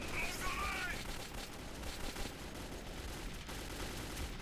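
Gunfire in the Metro 2033 video game comes as a rapid burst of shots, fairly faint and muffled, followed by a low rumble of continued fighting.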